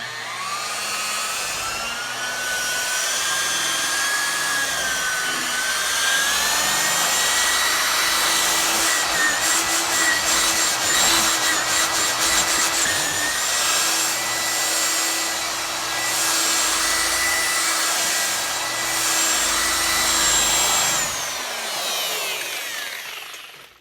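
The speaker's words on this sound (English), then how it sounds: "All right, now we've got our wool polishing pad." A car paint polisher fitted with a 3M wool polishing pad whirs steadily on automotive paint, a close, sustained high whine with slight pitch wavering that cuts off near the end.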